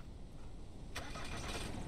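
A vehicle engine cranks and catches in the survival video game Mist Survival, starting abruptly partway through and running on under a steady background hum, with no talk.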